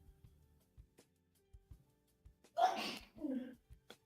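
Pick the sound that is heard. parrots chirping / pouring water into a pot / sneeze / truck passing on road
sneeze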